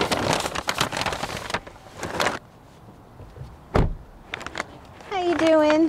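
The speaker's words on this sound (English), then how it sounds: "This is knock on door." Knocking on a house door during a grocery delivery just before a storm: a sharp, close rap stands out between stretches of talk and rustling, with a few lighter taps after it.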